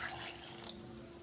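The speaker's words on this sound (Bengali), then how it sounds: "আর 1/2 বাটি জল দিই।" Water pours into rice in a cooking pot with turmeric, a brief, faint splashing fill that tapers off quickly.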